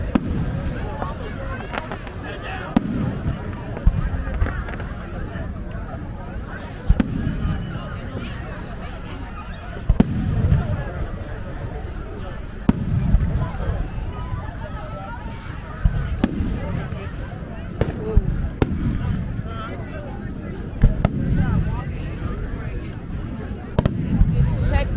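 Fourth of July fireworks show with repeated bursts and pops booming at steady intervals across the whole span, mixed with people talking and occasional laughter nearby.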